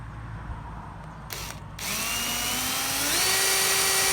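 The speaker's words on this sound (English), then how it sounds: "We must actually drill a hole first." A power drill bores a hole into very hard wood while a solar light fixture is being installed in Thailand. The motor spins up after a short burst and then holds a loud, steady whine that rises slightly in pitch.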